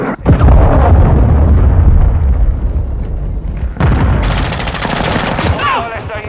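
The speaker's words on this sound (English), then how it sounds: "Hostile cruise missile incoming" Loud, chaotic combat in Call of Duty: Modern Warfare 2 on PC: a cruise missile strike bursts among sustained gunfire and booming blasts, with a fresh sharp explosion surging partway through and rumbling on to the end.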